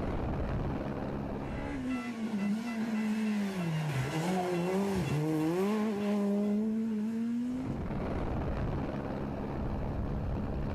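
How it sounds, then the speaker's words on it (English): A rally car on a wet stage of the ERC Jänner Rallye, its engine note climbing and dipping through the gears over steady road and spray noise, close and loud, with no talking. "Raimund Baumschlager loses time in the wet conditions"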